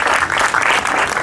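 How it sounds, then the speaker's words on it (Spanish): Applause from the audience at a student education forum, honoring a secondary students' coordinating assembly; dense, steady clapping fills the whole short moment at close range. "Por favor, un aplauso."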